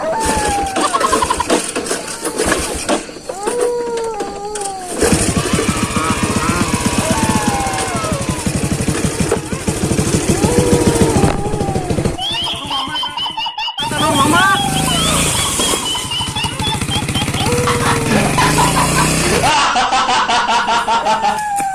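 A motorcycle engine runs and revs unevenly close by, with chugging bursts and shifting pitch, while several people talk and exclaim over it.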